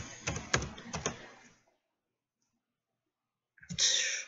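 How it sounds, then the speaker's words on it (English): Quick bursts of keyboard typing on a computer keys, close and fairly loud, clustered in the first second and a half, then silence before a final noisy rush of clatter. "let me finish typing it in first"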